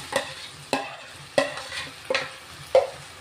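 Marinated shrimp fried in a pan and turned with a spatula: five sharp scraping stirs spaced about half a second apart, each over a soft, continuous sizzle, close and clear with no talking.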